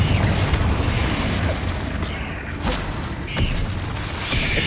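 Fiery Confringo spell blasts in Hogwarts Legacy, a series of booming bursts with crackling pops over dense, continuous game noise and music.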